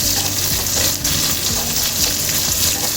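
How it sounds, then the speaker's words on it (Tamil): Small onions frying in hot oil for a dry fish gravy, a loud, steady close sizzle with stirring scrapes running throughout, no voices. "சின்ன வெங்காயம் அதையும் சேர்த்து நல்லா வெங்காயம்லாம் பொரிய வரைக்கும் நல்லா கிண்டி விடணும்"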